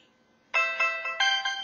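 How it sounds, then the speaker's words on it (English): A phone alarm starts abruptly after a short quiet lead-in, then repeats as a bright, multi-tone electronic chime in a steady pulsing pattern, loud and near with no talk over it. "yeah, that's my alarm."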